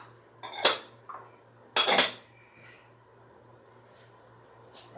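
Parmesan and mozzarella get stirred into pasta in a metal pot, heard as a few sharp clinks and scrapes of a utensil against the pot, with two louder knocks early and then quieter taps.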